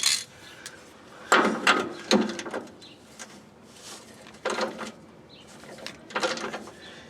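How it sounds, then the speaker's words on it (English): Hand ratchet clicking as it spins a rear shock absorber nut off a 1989 Chevy K5 Blazer, several short bursts of rapid metallic clicks separated by pauses, close and clear with no talk. "So now I'll switch over to a ratchet."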